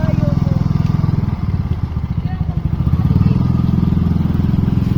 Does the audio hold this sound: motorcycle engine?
yes